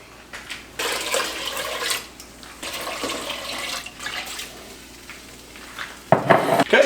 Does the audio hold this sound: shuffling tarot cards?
no